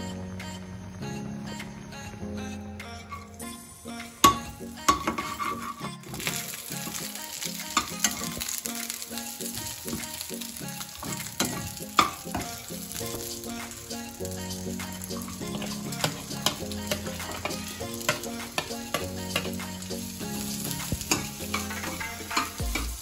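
Food cooking in a pan during a home cooking challenge, with continuous sizzling and frying, stirring and clattering utensils, and bursts of running tap water, close and busy throughout.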